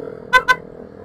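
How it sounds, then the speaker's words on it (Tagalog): A Honda Click 160 scooter's faulty horn gives two short, thin toots in quick succession, near and fairly loud over a low road rumble. "Sira ang busina."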